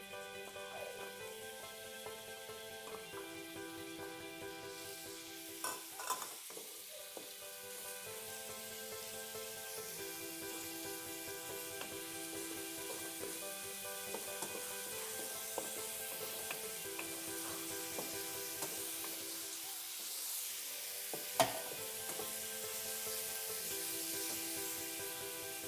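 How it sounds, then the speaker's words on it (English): Onions sizzle and fry in a pan for spaghetti with steady crackling for nearly half a minute, a spoon occasionally scraping and stirring through them, with a sharp knock near the end and a faint tonal hum underneath. "we are now going to put the onions"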